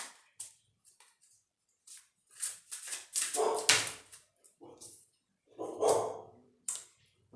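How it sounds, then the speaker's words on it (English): A dog barks nearby in several sharp, loud bursts with short pauses, over a quiet indoor background. "Excuse my dog barking."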